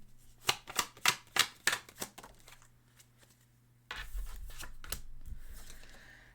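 Tarot cards being handled, a run of sharp crisp snaps and slaps in quick succession, then a quieter pause before a denser rustling shuffle with a few more distinct flicks. No one speaks.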